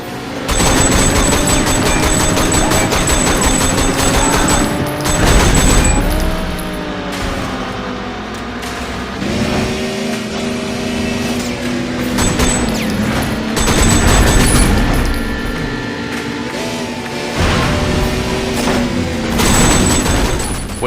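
Gunfire rings out while driving in the 2012 video game Sleeping Dogs, loud bursts and booms over a steady roaring car engine, with repeated volleys through a continuous, dense action mix.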